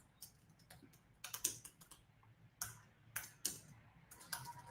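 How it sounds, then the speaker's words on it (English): Someone types on a computer keyboard in a quiet room, producing close, crisp key clicks in irregular bursts with a few louder strikes and brief gaps between runs. "I'm gonna try to type this."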